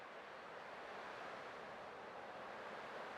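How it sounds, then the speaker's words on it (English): Ocean waves in the video game Honkai: Star Rail, a steady, soft wash of surf with no distinct breaks, continuous and fairly quiet throughout. "I can still clearly hear the sound of the waves."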